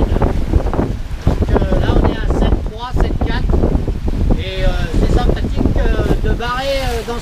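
Sailboat surfing at around seven and a half knots on the passage from Valencia to Dénia, with loud steady wind buffeting the microphone and rushing water throughout, while someone talks over it.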